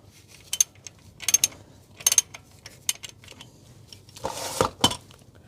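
A ratchet works loose the center cap on the oil filter housing of a Toyota Yaris 1.33 VVTi petrol engine, giving several short, sharp metallic clicking bursts close up, with a brief scraping rattle near the end.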